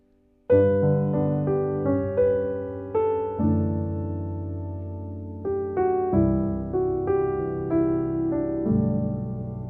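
Rich gospel jazz piano chords rung out one after another, each fading before the next, with a melody line woven through the harmonies; solo and clear.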